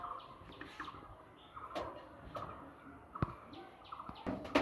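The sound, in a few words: pigeons cooing in a loft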